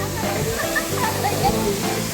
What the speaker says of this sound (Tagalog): So yan, ang Hulugan Falls.